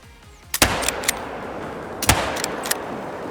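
Rifle shots fired at a deer about 160 meters away in a hunting video game, two sharp cracks each followed by echoing tails and fainter trailing reports, close and loud with no talk.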